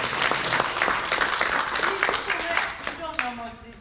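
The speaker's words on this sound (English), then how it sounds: "Let's give him a round of applause" A small group claps in a burst of scattered, fairly close hand claps that thins out toward the end, with a voice starting to speak as it fades.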